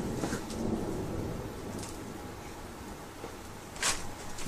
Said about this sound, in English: I don't know if you can hear the thunder out there, but we're getting some rain in Colorado